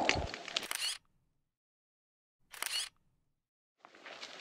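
A camera shutter fires while someone photographs the Fitz Roy peak on a mountain hike, heard as three short, close bursts separated by silence.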